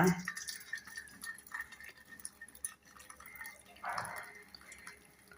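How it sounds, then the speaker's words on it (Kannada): Hot herbal hair oil decoction is strained, giving soft trickling and dripping liquid sounds, close and fairly quiet, with brief pouring splashes. "ನಾನು ಬಿಸಿಯಲ್ಲೇ ಸೋಸ್ತಾ ಇದ್ದೇನೆ"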